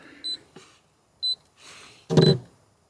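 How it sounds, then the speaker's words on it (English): Two short electronic beeps from an EcoFlow Glacier Classic portable fridge's open-lid alert, spaced about a second apart, with some clunks and a brief rustle in between. "It sounds like my fridge is telling me that my door is wide open."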